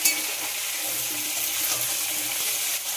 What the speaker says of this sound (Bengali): লবণটা দিয়ে আবারও খুব ভালো করে ভেজে নেব।